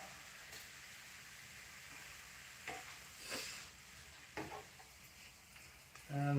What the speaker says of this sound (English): I'm kind of stir frying